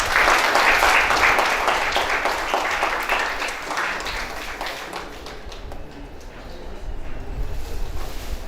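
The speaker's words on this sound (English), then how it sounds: "Let us welcome this proud moment with a big round of applause." Sustained audience applause at an academic conference on physical, mathematical and computational sciences, a dense wash of clapping that starts loud and gradually fades over several seconds.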